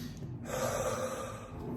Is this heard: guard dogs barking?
no